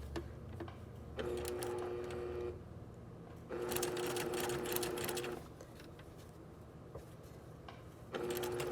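Sewing machine stitching binding onto a garment neckline, running in three steady motorized bursts separated by short pauses, close and clear with no talking.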